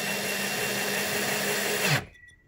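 A power drill drives screws into a bathroom vanity light fixture bracket, whirring steadily and loudly for about two seconds before spinning down abruptly into quiet.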